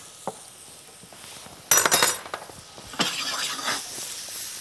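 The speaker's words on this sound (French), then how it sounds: "on va juste faire sauter comme ceci" Banana and pineapple pieces dropped into melted butter in a pan and sautéed, a sudden close sizzle with clattering, then a steady bright frying hiss with stirring, no talking.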